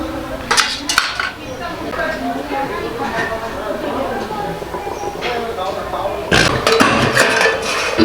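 Metal lid clanks and scrapes onto a cooking pot of simmering potato curry, with several sharp clinks standing out near the end beside a speaking voice.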